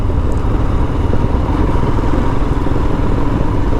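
A Royal Enfield Himalayan motorcycle is ridden on country roads, its engine giving a steady, loud, close rumble mixed with wind noise across the whole stretch, with no talk.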